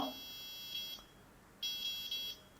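Short high electronic beeps from an Arduino distance sensor's buzzer sound in bursts, a brief one and then a longer sustained tone broken by small gaps, loud and close with quiet between.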